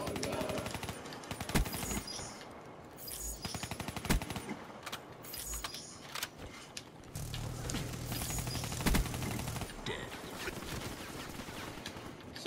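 Gunfire in the video game Call of Duty Black Ops 3, with bursts of automatic shots and mechanical clatter scattered through the clip at moderate volume amid game noise.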